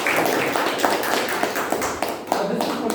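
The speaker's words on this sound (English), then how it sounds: "we have to give a round of applause again to her" Applause from the audience at a Toastmasters club meeting, a dense steady patter of many hands clapping for about three seconds, fairly close and loud, with a few sharper claps standing out.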